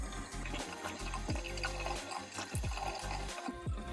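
Water splashed onto a face at a sink while washing before makeup, a run of wet splashes and trickles with small dripping sounds, close by, with no talking.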